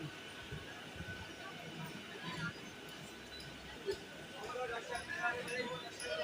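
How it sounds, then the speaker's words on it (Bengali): A train departing Howrah rumbles along steadily, with low rolling noise and faint rattles, while people chatter in the background. "হাওড়াতে ট্রেনে উঠে পড়েছি ট্রেন ছেড়ে দিয়েছে"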